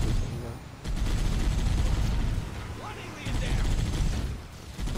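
Rapid sustained gunfire from a chain gun in the Halo: Combat Evolved campaign, loud dense bursts in two long stretches with a brief lull between them, no talking.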